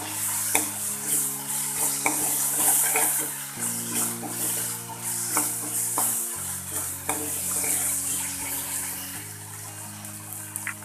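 Spices frying and being stirred in a pan for a stuffed date curry, a soft continuous sizzle with occasional scraping stirs, close and moderately quiet over a faint background hum.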